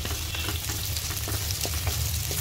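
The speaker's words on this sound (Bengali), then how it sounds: "পেঁয়াজগুলো একটু হালকা ভেজে নিব" Onions frying lightly in a pan give a steady, close sizzle with faint stirring scrapes throughout, no voices.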